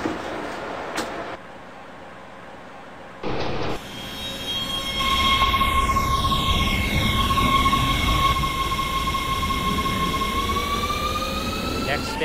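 A WMATA 1000 Series Rohr metro train on the DC Metro Red Line in the Openbve simulator rolls along with steady rumble, a rising motor whine and a sustained tonal squeal, starting quietly before swelling into continuous loud running noise.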